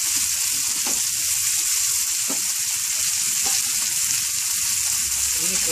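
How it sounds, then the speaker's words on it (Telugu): Finely chopped coriander fries in hot oil, giving a constant bright sizzle with occasional soft pops and stirring sounds, close and steady with no talk. "సన్నగా తరిగి పెట్టుకున్న కొత్తిమీరను నూనెలో వేయాలి."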